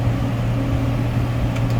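A 2003 6415 tractor engine drones steadily while mowing hay, a constant low chugging hum with no break across the short stretch, close and fairly loud.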